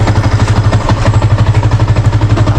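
Motorcycle engine idling close by, with a steady, fast, loud pulsing throb that holds even for a couple of seconds, and no talking.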